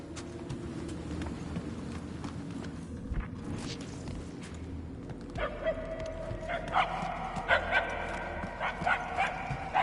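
A dog barks far off, its yips and barks coming in a loose series that grows a little more frequent in the second half, faint against a steady outdoor background.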